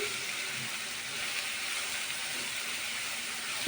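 Eggplant fries in hot oil in a home kitchen, producing a continuous dense hiss that stays steady and close throughout, with no voices.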